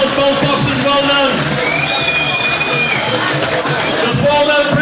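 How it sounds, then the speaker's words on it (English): A boxing crowd at a fight night cheers and applauds loudly and continuously, with whoops and babble rising over a steady roar. "Come on, ladies and gentlemen. Big round of applause."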